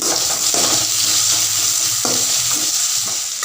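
Sambar thick with dal being stirred in a pot while it simmers, a steady loud bubbling sizzle with the spoon scraping through in a few distinct sweeps, close up and with no voices.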